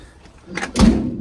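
A door swings and shuts with a short slide followed by a solid, low thud, close by and fairly loud.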